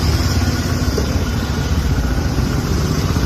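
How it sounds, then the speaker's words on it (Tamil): A vehicle engine idles steadily after being left running for about three quarters of an hour, a loud, close, even rumble with no pauses and no voices. "இந்த 3/4 மணி நேரமா இந்த வண்டி ஆன்லயே இருக்குது"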